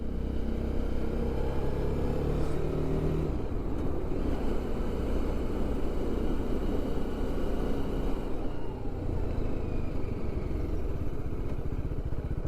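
A BMW G 310 RR motorcycle being ridden, its engine droning steadily with heavy wind rush across the microphone, continuous and loud with no talking.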